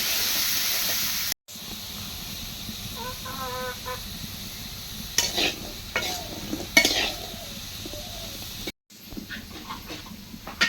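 Potatoes frying in a pan while being stirred, a steady sizzle broken by scraping strokes, with brief clucking from a chicken in the background.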